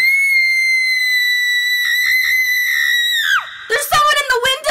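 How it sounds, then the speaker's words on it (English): A woman's blood-curdling scream in an animated horror story, one long, loud, piercing high-pitched shriek held for over three seconds before breaking off into shorter yelling cries. "blood-curdling shriek I ever heard"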